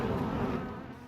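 A swarm of bees living inside the wall of a house buzzes in a steady, dense drone, close and fairly loud, fading slightly at the end with no voices.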